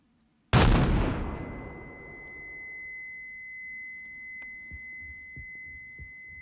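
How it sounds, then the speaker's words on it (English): One loud, sharp gunshot in the horror game Mouthwashing bursts out after a moment of quiet and decays slowly into a sustained high ringing tone, with a low hum and a few faint thumps after it. "I have to shoot you in the head, don't I?"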